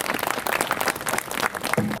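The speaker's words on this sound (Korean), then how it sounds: "다시 한번 축하의 박수 부탁드리겠습니다" Audience applause at the opening ceremony of a memorial hall, a steady burst of many hands clapping close by for about two seconds, with a brief low voice or hum near the end before it cuts off.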